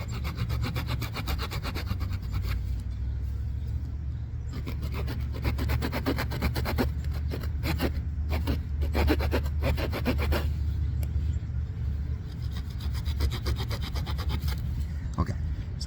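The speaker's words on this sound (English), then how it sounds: "So get our saw, and this time we're going to saw 2 lines, but they're going to intersect like an X." A hand saw cuts two intersecting lines in wood, forming an X for a notch. Close, steady back-and-forth rasping strokes continue throughout, with brief pauses near the middle, over a low background rumble.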